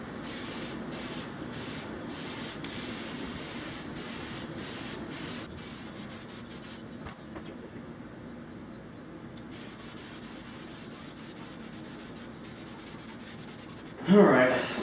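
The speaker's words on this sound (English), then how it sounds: "Put some spray lacquer over this, and I'm just gonna do like a whole bunch of coats." Spray lacquer hissing from an aerosol can onto a guitar body during finishing coats, in a series of short bursts followed by longer steady sprays, fairly close and loud, with a brief clatter at the end.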